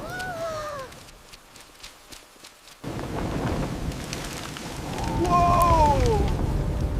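Cartoon rainstorm on an orchard, with a steady hiss of heavy rain and a low thunder rumble that swell louder toward the end, broken by a near-silent gap and sliding whistle-like effects.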